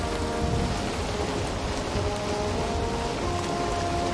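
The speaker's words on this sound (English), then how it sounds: "storm." Steady heavy rain from a rainstorm in Valheim hisses and patters on surfaces, a dense, constant wash of drops with a faint low rumble beneath, no voices.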